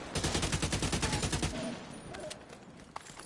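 A grenade explodes in the video game The Division, setting off a loud burst of rapid crackling blasts that lasts about a second and a half, then thins into scattered pops and a quieter tail.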